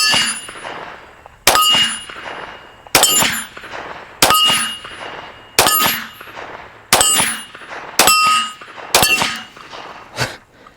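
Eight Cz-52 pistol shots strike a steel target, each a sharp ringing clang that decays over about a second, spaced at a steady, even pace.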